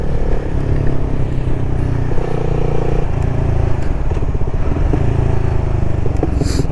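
A CFMOTO 300SS motorcycle engine drones loudly while riding, its pitch climbing and dropping through several gear changes in a steady, continuous run.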